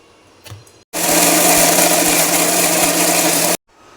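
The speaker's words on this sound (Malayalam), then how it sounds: "ഒരു മൂന്നാല് സ്പൂൺ പഞ്ചസാര ഇട്ട് കേട്ടോ ഇതൊന്ന് അരച്ചെടുക്കാം" A kitchen mixer grinding peanuts with sugar into a paste roars steadily and loudly for about three seconds, then stops abruptly, with faint handling noises before and after.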